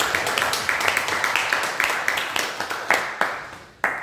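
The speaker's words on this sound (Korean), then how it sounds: "박수로 하나님께" Church congregation members clap in praise to God, a fairly quiet, loose patter of hand claps with distinct individual slaps standing out, thinning toward the end.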